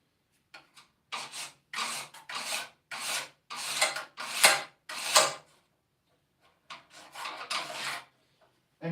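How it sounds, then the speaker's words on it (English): A screwdriver tip scribing a line along a level, a series of quiet dry scraping strokes in a steady irregular rhythm, close and alone. "you're seeing me use a screwdriver and a level to do that"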